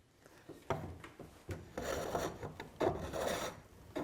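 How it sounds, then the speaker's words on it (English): A woodturning gouge rolled on its side cuts like a skew chisel across spinning wood on a lathe, leveling high spots with close, repeated scraping and rasping strokes that swell and fade. "I roll the tool off to the side and use the straight flute like a skew chisel"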